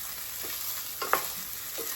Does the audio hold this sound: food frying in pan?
yes